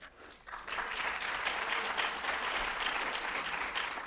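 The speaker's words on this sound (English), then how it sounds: "I love that I didn't have to ask for the applause part" An event audience breaks into applause for the sponsors, rising quickly after a short quiet moment into a full, sustained round of clapping that stays strong and even to the end.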